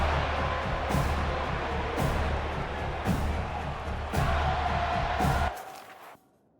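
A stadium crowd in the EA Sports College Football video game roars continuously, a loud, dense wall of cheering with periodic surges and thumps before the noise cuts out abruptly at the end.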